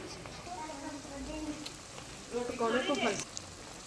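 Pakoras deep fry over a low flame in hot oil, giving a soft continuous sizzle with faint crackles that swell briefly louder, all fairly quiet and close.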